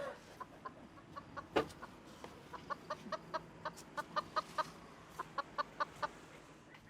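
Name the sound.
chickens clucking in their coop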